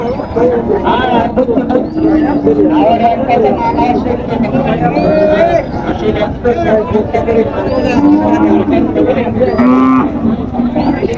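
Cattle lowing again and again at a busy village cattle market in Panchbibi, among Indian bullocks suited to ploughing, with crowd chatter and people talking throughout the loud, constant din.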